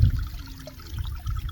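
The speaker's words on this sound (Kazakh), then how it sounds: "Бұлақтың сылдыры естіліп жатыр." Spring water trickling and babbling beside a freshly watered birch sapling outdoors, a soft continuous low gurgle that stays steady and close for the whole moment with no voices.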